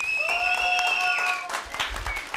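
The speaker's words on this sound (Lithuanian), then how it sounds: "Dar kartą plojimai Turne komandai." A studio audience at a televised team cooking competition breaks into a burst of clapping that follows a sustained musical tone and carries on to the end.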